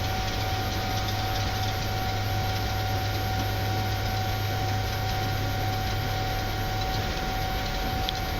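Boeing 787-9 jet engines at takeoff power during the takeoff roll, heard from the cockpit as a steady, loud broadband roar with a constant low hum and tone, no talk.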